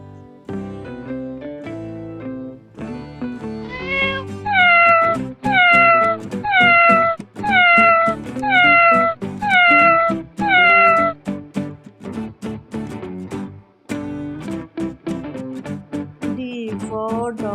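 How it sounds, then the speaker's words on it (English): Cat meows repeat in a steady rhythm over a bouncy musical backing, six or so in a row, loud and close. "C for cat."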